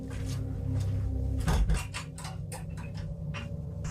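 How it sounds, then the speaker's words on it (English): A door latch being fastened, heard as a short cluster of sharp metallic clicks and a low thump midway through, with quieter ticking knocks around it against a steady low hum. "Now you heard me put the latch on the door there."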